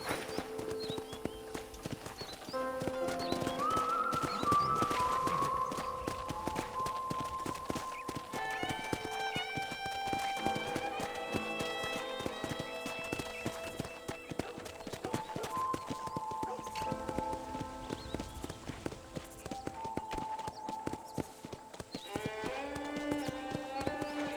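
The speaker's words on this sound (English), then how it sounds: "let's see if you can still ride a horse" Horse hooves clip-clop at a steady riding pace in Red Dead Redemption, the rhythmic thuds continuing under an orchestral game score with occasional spoken dialogue, moderately close and fairly quiet overall.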